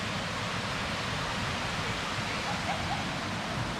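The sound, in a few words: Kaaterskill Falls waterfall, heard from the top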